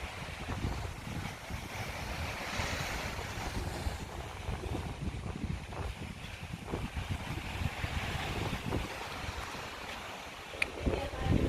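Wind and sea waves at a beach in Pingtung, Taiwan: a continuous rumbling roar of surf mixed with gusty wind buffeting the microphone, fairly steady with a few sharper bumps near the end.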